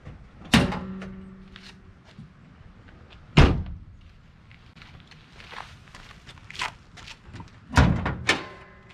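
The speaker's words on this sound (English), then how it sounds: "I'll open the hood for you and show you all this horsepower." Hood of a Mazda Miata drift car being opened: a sharp latch clunk, a second heavy thunk a few seconds later as the hood lifts, then another pair of knocks, with faint rustling between.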